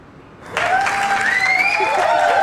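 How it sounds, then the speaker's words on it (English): A live audience breaks into a round of applause after a sudden onset, the clapping loud and sustained with whistle-like tones riding over it, during a comedy livestream show's series finale. "Give me a round of applause."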